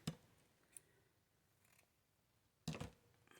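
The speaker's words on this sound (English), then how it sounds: "I want to go in and cut it into smaller squares." Scissors cut paper into smaller squares, giving two sharp, close snips a few seconds apart with faint rustling between them in a quiet room.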